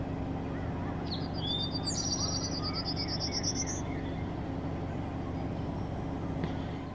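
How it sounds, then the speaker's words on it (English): A Prairie Warbler sings one high, buzzy trilled phrase that climbs in pitch. It sounds moderately near over a steady chorus of crickets and a low background hum. "I also made a video clip of this Prairie Warbler in this location as it was singing"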